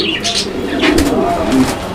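Soft, low cooing of large fancy pigeons sounds up close in a few short murmuring calls, with some light background noise.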